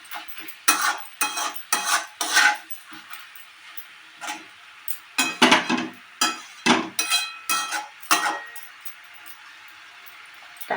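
Mashed bean paste is fried in a pan and stirred with a utensil, giving loud, irregular scraping and clattering strokes in bursts, with short pauses between them.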